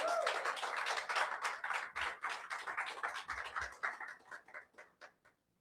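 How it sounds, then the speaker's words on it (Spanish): Clapping from a church congregation during an evangelical service: a run of sharp, close claps that thin out and fade to silence over several seconds. "Dale un aplauso al Señor"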